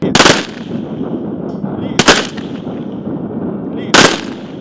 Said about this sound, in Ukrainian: останній ритуал лунають три постріли у повітря